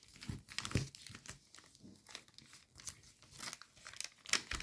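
Origami paper being folded as flaps are worked on a main battle tank model, giving soft close crinkling and rustling handling sounds throughout.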